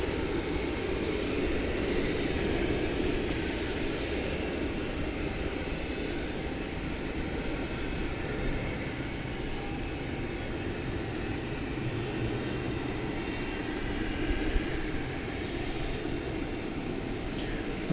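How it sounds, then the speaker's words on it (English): Engines of a Boeing 747-400 built in 2004, flying Singapore Airlines cargo at DFW Airport at night, make a steady, broad roar and whine that fills the whole stretch at an even level from a distance. "This will be a 747-400 from this century, from the year 2004."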